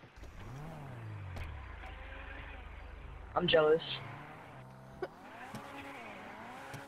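In GTA 5, a cosmetically customized car engine rises and falls in pitch, then a brief loud tire squeal bursts out midway, while someone talks over the engine noise.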